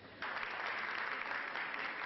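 Applause from a city council chamber as a terrace ordinance is approved, a dense, steady clatter of many hands that starts abruptly and holds at an even level throughout.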